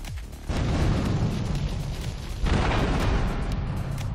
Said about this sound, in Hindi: इसे मैं बम से उड़ा दे रहा हूँ पहले।